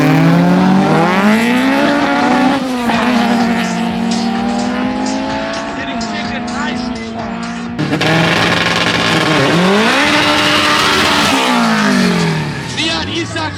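Toyota Corolla drag racing at the Saldanha drags, engine revving hard and climbing through gears in loud rising sweeps, a brief break, then another strong high-revving run; a voice talks over the roar.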